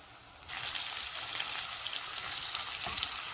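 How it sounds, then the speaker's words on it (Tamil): Oil abruptly bursts into a bright, steady sizzle as turmeric and salt go into a pan for sautéing onions for tamarind rice, a close hiss with light crackles and occasional stirring, no voices. "மஞ்சளும் உப்பும் சேர்த்துட்டு நல்லா வதக்கிக்கோங்க."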